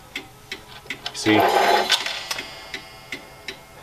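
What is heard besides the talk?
ticking of a 31-day Korean wall clock movement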